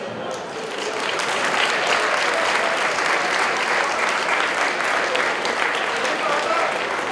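A large audience applauds steadily, a dense wash of clapping that holds at full strength throughout, with no pauses.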